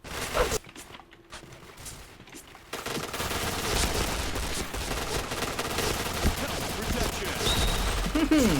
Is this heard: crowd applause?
no